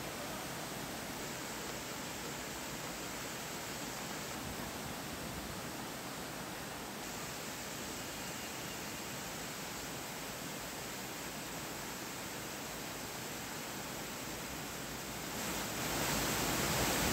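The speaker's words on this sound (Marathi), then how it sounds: "अंबोली घाटातील धबधबाही प्रवाहित झाला आहे" Monsoon waterfall at Amboli Ghat, heard as a steady broadband rush of falling water, even and unbroken, fairly faint at first and swelling slightly near the end.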